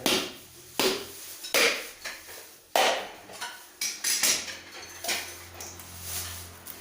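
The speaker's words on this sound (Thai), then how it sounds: "หัวมะพร้าว เราจะมาขูดใส่" Young coconut flesh being scraped out of the shell by hand, heard as a series of close, sharp scraping strokes at an uneven pace, each one a short rasping burst with quiet gaps between.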